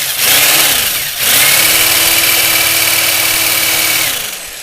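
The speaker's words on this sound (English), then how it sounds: "drill these two bolts" A power drill runs on bolts on a Yamaha FJR motorcycle while risers are installed, two whirring bursts close by, with a brief stop between them, the tone steady then winding down.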